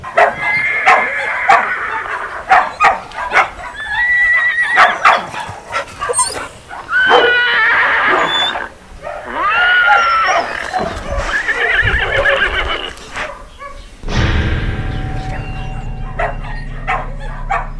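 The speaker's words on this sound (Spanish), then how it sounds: "los caballos relinchaban" Horses neigh and whinny repeatedly amid a noisy commotion, with dogs barking and yelping alongside them, loud and close.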